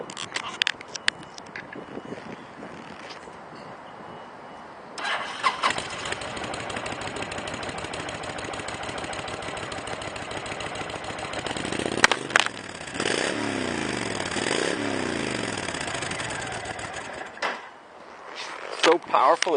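2009 Honda VTX1300C heavyweight cruiser with a 1300 cc liquid-cooled V-twin and shaft drive, cranked over and then running with a steady loud rumble and some revving, recorded close up, with knocks and handling noise near the start and end.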